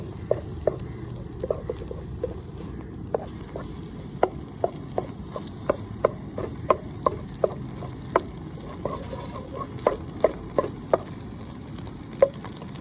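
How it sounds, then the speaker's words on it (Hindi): A spoon stirs eggs in a cooking pot while making anda pulao, giving a steady series of light scraping taps close by over a soft sizzle, with no one talking. "अब चम्मच चला देंगे।"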